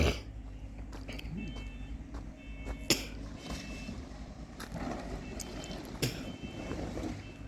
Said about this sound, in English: Crazy alarm.